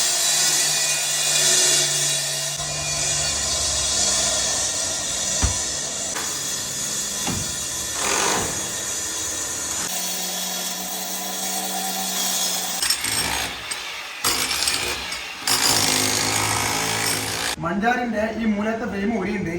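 A power saw cuts through a sit-out wall to open space for a window, giving loud, sustained grinding with changes in pitch and brief pauses, while voices speak over it at times.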